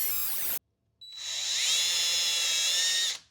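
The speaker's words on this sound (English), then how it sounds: "we need to find an appropriately sized drill bit so that we don't go too big" A power drill fitted with a 1/8 inch bit drills a pilot hole during an arcade cabinet refurb, a brief whine cutting off, then a steady high-pitched motor whir for about two seconds before stopping, close and loud.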